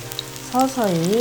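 Kimchi pancake batter sizzles in a hot pan for a Korean kimchijeon, a soft steady frying hiss under a voice that speaks briefly over it.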